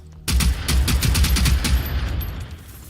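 Full-auto gunfire in Generation Zero rattles off as a close burst of rapid shots, loud and steady for roughly two seconds, then fading into a lingering tail.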